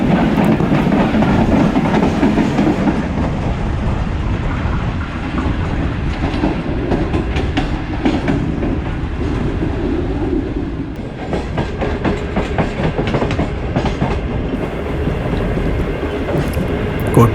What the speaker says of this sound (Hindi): ये है 150 डाउन महरान एक्सप्रेस